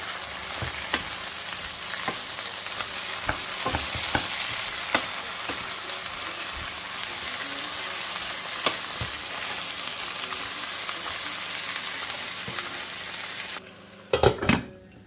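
Tomatoes fry in a pan for a homemade vegetable pizza, a continuous close sizzle dotted with small pops and crackles, ending with a few louder clinks of a utensil against the pan.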